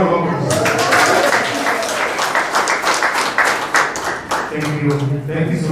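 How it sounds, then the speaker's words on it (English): Audience applause at an official ceremony marking a police leadership handover, a dense sustained clapping crowd with voices talking over it and a faint tonal hum near the end. "Let's have another big round of applause."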